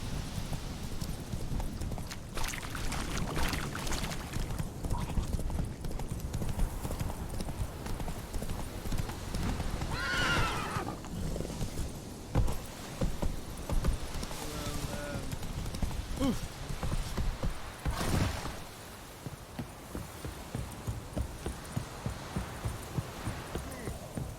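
Geralt's horse Roach galloping in The Witcher 3, a fast steady clip-clop of hooves close up over a rumbling background, with a brief snort, slowing toward the end.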